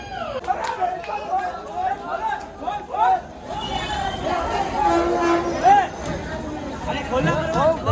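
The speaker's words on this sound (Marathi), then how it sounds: "शिर्डी दादरला मार्गक्रमण करते ती आता सुटलेली आहे" The Sainagar Shirdi express pulls out of the station at night with a loud horn over the engine rumble, while a crowd chatters nearby.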